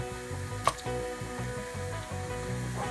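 Carrots and onions sautéing in a pan give a steady, close sizzle with faint scraping clicks and one sharp tap partway through, with no one talking.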